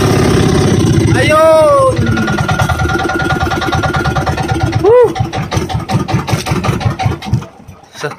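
A fishing boat's inboard engine chugs in a loud, rapid, steady rhythm close by at sea during a skipjack and yellowfin tuna catch, while excited voices shout over it.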